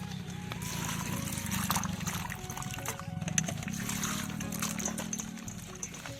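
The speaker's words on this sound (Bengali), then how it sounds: "এবার ভালো করে ধুয়ে নেব।" Freshly cut new potatoes from the field being washed, giving a continuous close splashing and trickling of water with small knocks and clatter of the pieces, under a low background hum.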